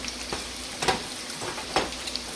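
Kofta meatballs frying in a pan while a spoon gently moves them: an even close sizzle with a few soft stirring scrapes and taps, no talking.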